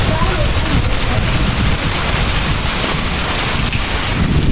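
Heavy rain driven by strong wind pours down during a storm in the Pernambuco sertão, a dense, loud and constant roar of rain and gusts across the whole stretch.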